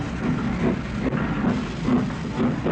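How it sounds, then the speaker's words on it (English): A steam express train runs past with a steady rumbling roar and rhythmic chuffing and clatter, with no voices. "A real steam express of the sort that's almost entirely disappeared."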